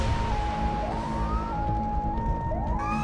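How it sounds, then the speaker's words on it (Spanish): Ambulance sirens wail as they arrive at an accident scene, a loud continuous rising and falling tone over heavy low traffic rumble, with a second siren sweep joining near the end. "A los pocos minutos de producido el accidente, arriban las ambulancias."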